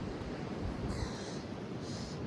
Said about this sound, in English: Really windy out here right now.